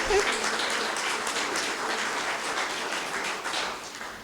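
Sustained applause from an audience at an evening forum greeting a newly introduced incoming chair, a dense steady wash of many hands clapping for about four seconds, with a faint voice briefly under it.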